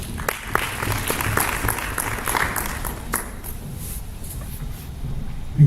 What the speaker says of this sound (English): We give another round of applause.